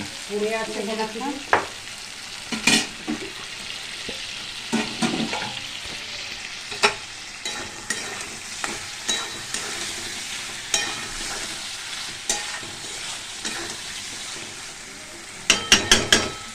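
Potatoes and spices fry in oil for a paneer curry, with a low sizzle under repeated scraping and clacking of a spatula against the pan, ending in a quick burst of stirring strikes.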